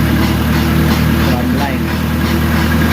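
A tram engine runs at a steady loud drone throughout, close by, with a constant low hum and no change in pitch.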